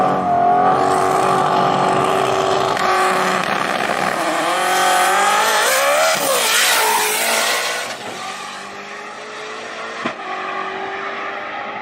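A flat plane crank single turbo engine, a Fat House Fab build, revs hard and loud with rising and falling pitch sweeps, close and sustained, easing off toward the end.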